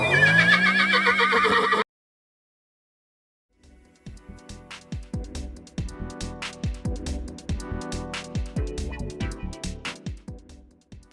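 A horse gives a loud, close whinny, then there is a brief silence, followed by a steady, rhythmic clip-clop of hooves that continues to the end.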